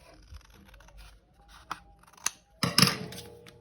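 Scissors snipping through paper while making a junk journal, a few quiet close cuts building to a louder crisp snip and rustle near the end.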